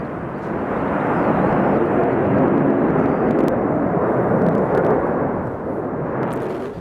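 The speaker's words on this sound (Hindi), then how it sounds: "ये तो रूस की पैसिफिक फ्लीट है जिसको आप देख रहे हैं, जिसने वहां पर इस वॉर ड्रिल में उसके फाइटर जेट्स ने हिस्सा लिया।" Roaring jet noise from Russian Pacific Fleet fighter jets flying in a war drill, a loud, steady broadband rumble sustained throughout with no talk.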